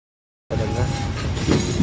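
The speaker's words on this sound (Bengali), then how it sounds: "কিছুক্ষণের মধ্যেই আমাদের এই ট্রেনটি চুয়াডাঙ্গা ছেড়ে চলে যাবে" A train pulls out of Chuadanga railway station, a steady rumble of rolling stock and low mechanical noise that starts abruptly after a brief silence and grows slightly louder, with a faint tonal squeal over it.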